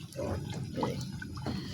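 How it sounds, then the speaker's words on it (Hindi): Sugar water is poured into roasted, browned semolina in a pan for halwa, giving a continuous soft liquid rush and bubbling throughout, fairly quiet. "ये देखें अब हम इसके अंदर डाल रहे हैं पानी"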